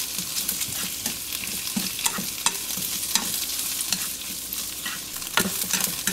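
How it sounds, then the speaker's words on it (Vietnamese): Bamboo shoots stir-fried with garlic and shallots in a pan, a constant close sizzle broken by repeated scraping and tossing strokes of a spatula at an uneven rhythm. "Khi tỏi và hành tím cho thơm, cho măng vào xào."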